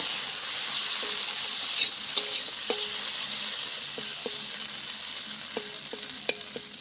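Boiled potatoes being stirred in a pan for Bengali egg curry, soft continuous sizzle with repeated light spatula taps and scrapes against the pan, close and unaccompanied by talk.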